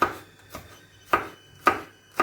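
A knife slices garlic into rounds while lecho and adjika are being made. Four crisp, close chops land at an uneven pace against quiet background, with no talking.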